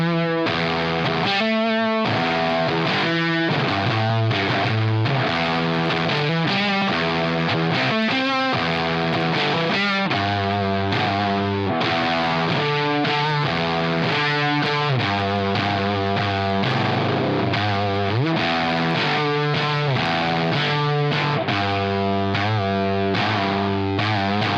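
Electric guitar with a P90 pickup run through a thick octave fuzz on a Blackstar JJN 50 amp sim, playing a busy stream of single notes with a buzzy, saturated tone, loud and steady throughout.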